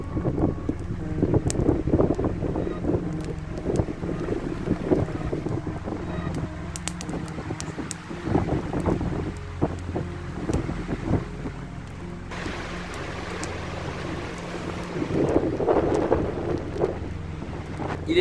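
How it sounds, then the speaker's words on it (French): Gusty wind buffets the microphone over a rumbling, rainy outdoor backdrop, with rustling and knocks throughout and no talking. "Il fait froid, il pleut, Il y a énormément de vent."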